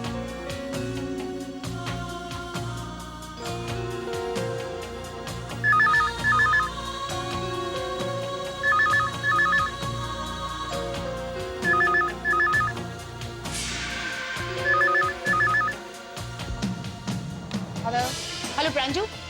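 A telephone ringtone repeats in short bursts over a melodic background music score in a domestic drama setting, ringing several times at regular intervals.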